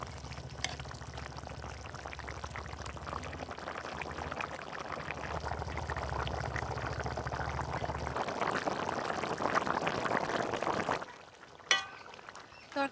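A Bengali fish curry of mrigal fish with cauliflower and green peas simmers in an uncovered pan, a soft steady bubbling and sizzling heard close but quiet, fading out near the end with a couple of small knocks.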